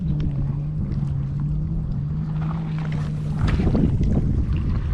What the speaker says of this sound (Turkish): Çok uzağa atamadık. Rüzgar var.